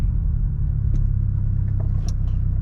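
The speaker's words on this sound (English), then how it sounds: "Press gas and slowly let go of the clutch until you get to the bite point. And then there you go, it's moving." A manual transmission car pulls away as the clutch is let out to the bite point, with a loud, steady low engine rumble heard from inside the cabin and a few faint clicks.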